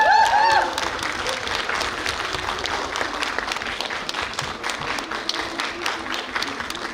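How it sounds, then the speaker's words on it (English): An audience at a World AIDS Day session applauds campaign members. The sustained crowd clapping begins after a brief loud burst with a voice and then continues steadily at moderate volume. "round of applause for all the members of the Integrated Campaign"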